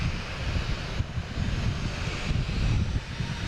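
A jet airliner taking off at Boston Logan airport, a broad, steady roar with heavy low rumble and airy wind noise, holding at a constant loudness throughout without voices.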